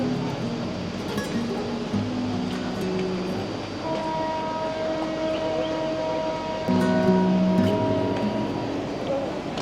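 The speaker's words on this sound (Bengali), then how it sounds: "এবার ছাড়বে আমাদের ট্রেন।" The 13019 Howrah–Kathgodam Bagh Express stands at a station in light rain, with a steady rumble, faint metallic clinks and sustained tonal hums, and people talking nearby.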